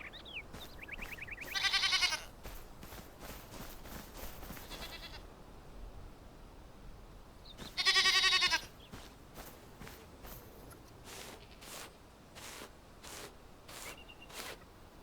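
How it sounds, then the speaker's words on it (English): Goat bleats from the video game Enshrouded: two loud, quavering bleats about six seconds apart, with quieter game ambience and faint clicks around them and no talking. "there's a good goat"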